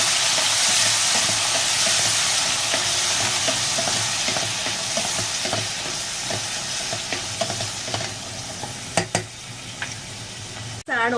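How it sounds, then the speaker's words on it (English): Chickpeas frying with garlic in a pan, a loud, steady sizzle from close up with scraping stirs running throughout and a few sharper knocks toward the end. "Now I'm going to throw in this chana."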